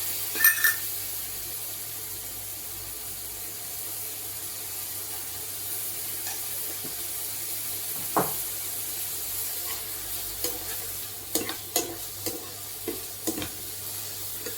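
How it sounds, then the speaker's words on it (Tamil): Tomatoes sautéing in a pan for a green masala, a low steady sizzle with scattered sharp scrapes and clinks of a stirring spoon growing more frequent toward the end. "தக்காளியை வதக்கிட்டு இருக்கேன்"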